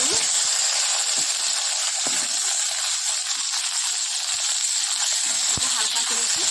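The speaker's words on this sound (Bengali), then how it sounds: "হালকা করে একটু তেলে ভেজে নেব।" Potatoes and yam frying lightly in oil, a steady broad sizzle holding level and close throughout with faint clicks and bubbling underneath, no voices.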